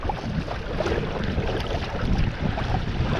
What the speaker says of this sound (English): there's a motorboat coming